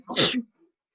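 A single sharp sneeze, loud and close, bursting out and fading within half a second, followed by near silence.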